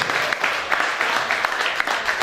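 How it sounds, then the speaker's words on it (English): Audience applause for performers at a debate show, a steady dense clapping from a crowd filling the whole moment with no voices over it. "Please give a warm round of applause for all our performers today."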